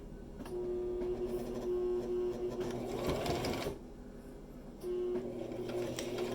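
A sewing machine stitches a bag holder part forward and then in reverse: a loud, steady mechanical whir that runs, breaks off briefly, then starts up again close by.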